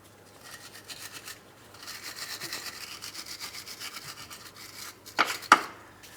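Wire brush scrubbing the subframe mounting surface of a 2004-2008 Pontiac Grand Prix during a front lower control arm replacement, a quiet rhythmic rasping that ends in two louder sharp scrapes.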